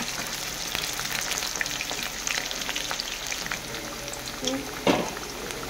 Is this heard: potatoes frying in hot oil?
yes